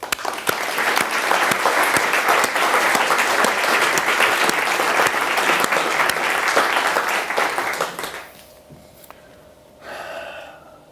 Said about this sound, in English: let's finish this giving a round of applause to those youngsters, their families, and what they were working for.